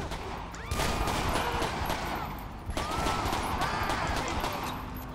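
Dense, continuous gunfire in the video game GTA 5 with a police patrol mod, a rattling barrage of shots with a couple of sharper cracks standing out, filling the whole stretch without speech.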